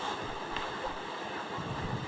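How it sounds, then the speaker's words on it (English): Outdoor ambience in France: a steady wash of moving water and wind noise buffeting the microphone, with no voices. "Yet the water is heard, the birds are heard, the wind is heard."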